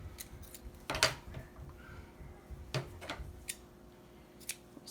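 Scissors snip through strands of yarn or ribbon for a craft, giving a few crisp, close cuts at irregular intervals over faint background rustling.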